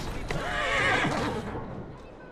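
A horse in Assassin's Creed Syndicate lets out a loud, close whinny that rises and wavers for about a second before tapering off, with hoof clatter beneath and a voice speaking.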